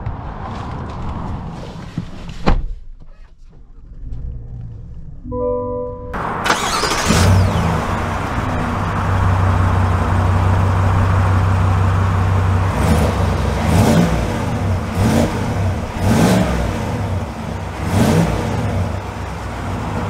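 A 2022 Chevy Silverado ZR2 pickup pulls away after some clunks and a short start-up, then drives with a steady engine drone that swells under acceleration, heard up close from inside.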